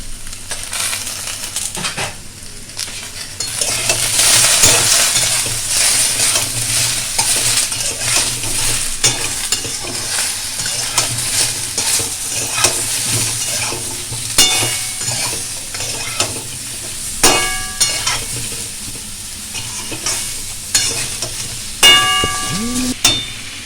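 Shrimp and spinach with salt and turmeric fry in a pan, a close, continuous sizzle broken by the steady scrape of a spoon stirring and occasional metallic clinks against the pan.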